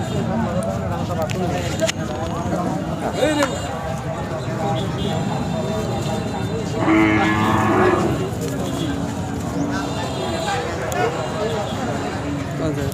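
Cattle moo repeatedly at a busy rural cattle market in Pingna, Jamalpur, Sarishabari, under constant crowd chatter and hubbub, with one louder, longer bellow standing out near the middle.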